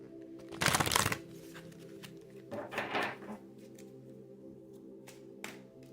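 Angels of Atlantis oracle cards shuffled close by in two quick riffling bursts, followed by a few light taps and card handling.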